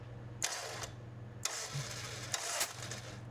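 Three short, soft puffs of air a second apart over a low steady hum, compression escaping from an engine cylinder as it is turned by hand toward top dead center during a leak-down test.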